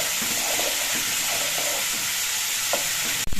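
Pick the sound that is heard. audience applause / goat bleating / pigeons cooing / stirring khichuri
stirring khichuri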